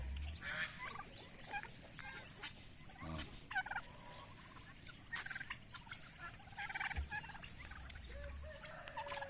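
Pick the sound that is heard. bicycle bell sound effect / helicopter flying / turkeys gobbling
turkeys gobbling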